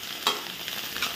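Chili paste sautéing in hot tempering oil for a spicy white-brinjal bharit, a steady close sizzle with a sharp burst near the start and small crackling flare-ups, no voices.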